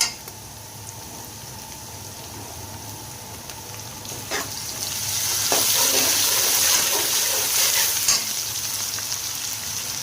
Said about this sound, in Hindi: पुलाव के लिए प्याज ब्राउन हो रहा है।